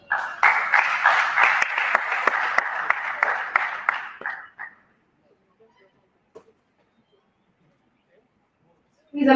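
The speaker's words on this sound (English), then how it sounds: "Please, another round of applause for our speakers" Conference audience at an energy event applauds in a dense, loud burst of many hands for about four seconds, then the clapping thins and fades out into near silence, with a faint stray sound at the end.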